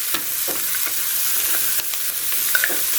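Hotdog and liver spread are stirred in a frying pan for Filipino spaghetti sauce, giving a continuous crackling sizzle. Scraping strokes and small clicks of the utensil against the pan come through close up, with no talking.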